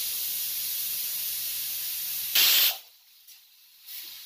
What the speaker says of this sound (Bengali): সিটিটা এখন আসছে।